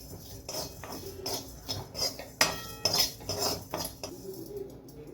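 Cumin and fennel seeds dry roasted in a pan, heard as a spoon scraping and clinking against the metal pan in a steady, fairly close rhythm of short strokes, without talk.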